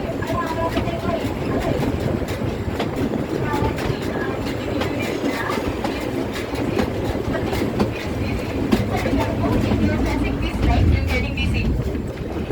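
A train at the Ambarawa railway museum in Central Java, Indonesia, rumbles steadily and close throughout, with faint clattering over the track and people talking in the background.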